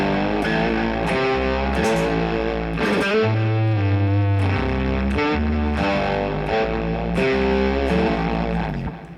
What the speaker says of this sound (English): It's almost like a swelled, yeah, basically like a swelled octave down, like a whammy